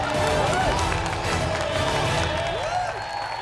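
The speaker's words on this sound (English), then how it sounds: "Ladies and gentlemen, give them a big round of applause." A studio audience at a cooking competition applauds the winning red team with steady, dense clapping and some cheering, close and sustained throughout.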